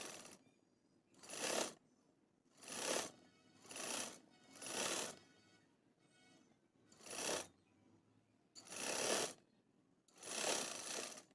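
A sewing machine stitches same-fabric piping onto a baby girl's umbrella frock, running in seven or eight short, even bursts of rapid needle chatter separated by quiet pauses, fairly faint and close.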